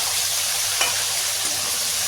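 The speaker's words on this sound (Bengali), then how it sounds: "1:30 সময় মাছ ভাজছি" Fish frying in a pan late at night, a steady, even sizzle of hot oil throughout with one brief sharper pop near the middle and no talking.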